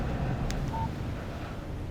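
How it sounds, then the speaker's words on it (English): A short electronic chime marks an incoming text message on a mobile phone in Alan Wake Remastered. It is a single brief tone over a steady background hum with no talk. "Text message from Barry."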